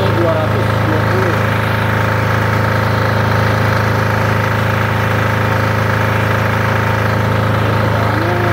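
A Multipro welding generator set runs steadily close by, a loud continuous engine drone with a strong low hum and no change in pitch or level.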